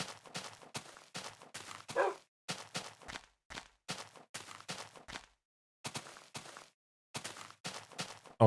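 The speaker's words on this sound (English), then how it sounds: "A woof, indeed." A wolf dog in Minecraft barking, a series of short, sharp woofs in irregular bursts with brief pauses between them, close and clear, no talk.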